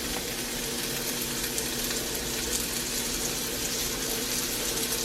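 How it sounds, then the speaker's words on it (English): Burgers sprinkled with Old Bay sizzle in a heated cast iron pan, a loud, steady hiss and crackle that runs unbroken from start to end. "cast iron's warming up. Get my burgers in there."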